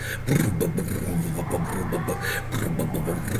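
An old car engine idles nearby with a rough, lumpy, uneven loping rhythm and a low rumble.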